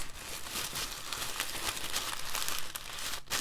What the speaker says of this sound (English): Wrap this up in some red tissue paper.